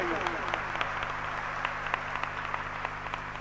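Steady applause from an audience at a Jain religious discourse, a dense wash of clapping with a constant low hum underneath and no clear voices.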